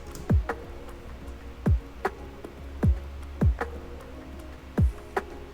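A future bass drum loop built from chopped loops in FL Studio, with six evenly spaced deep kick-like thumps falling in pitch, light ticking hits between them, and a low steady bed underneath, no voices.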